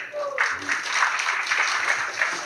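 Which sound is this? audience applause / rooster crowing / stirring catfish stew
audience applause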